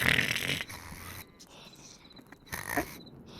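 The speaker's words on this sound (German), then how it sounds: "Stell dich mal neben einen Karnickel. Wenn es schläft, das schnarcht." A sleeping rabbit snoring in the video game Hytale, heard as soft, raspy breathing noises among the game's ambient sounds, close and moderately loud with uneven swells.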